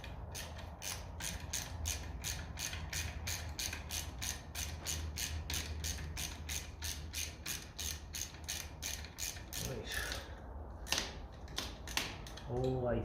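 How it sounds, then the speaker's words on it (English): A quarter-inch Halfords socket ratchet works a bolt on a 1957 Ferguson FE 35 TVO tractor, clicking rapidly and evenly at close range for about ten seconds before stopping. A few faint knocks follow. "The ratchet set is handy as hell."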